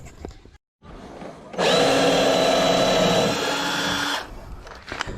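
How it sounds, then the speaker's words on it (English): A power drill drives screws into very hard wood while building a goat milking stand on a farm, a loud steady whir running for about two and a half seconds after a short rise, with faint handling sounds before and after. "Right, let's screw and drill."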